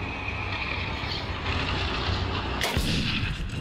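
Tank cannon fire in the war video game World War Heroes 2, a sharp heavy boom near the end over continuous loud battle rumble and engine noise.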